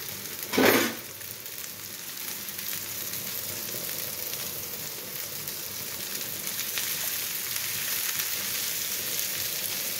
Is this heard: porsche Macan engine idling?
no